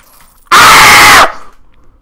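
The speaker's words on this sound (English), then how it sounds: "It was a demon banana, so you had to scream." A single loud, sustained scream lasting under a second bursts out of near silence, reacting to a demon banana in the Roblox game Banana Eats, then fades quickly.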